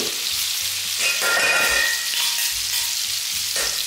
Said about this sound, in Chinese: 油温烧起来之后，肉再回锅复炸一遍。